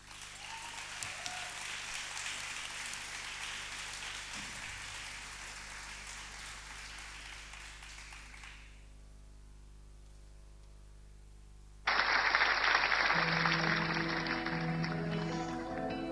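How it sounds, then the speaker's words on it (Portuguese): An audience at the Angra Dança Esta Noite 2018 dance show gives sustained, even applause to the final dance couple. The clapping stops abruptly, a quiet pause follows, then loud music begins. "peço uma grande salva de palmas"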